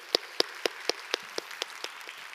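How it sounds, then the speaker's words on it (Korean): Scattered, sparse handclaps from a church congregation during a worship service, about ten distinct claps in a loose rhythm, fairly faint and alone with no talk. "우리 감사의 박수 올렸으면 좋겠습니다."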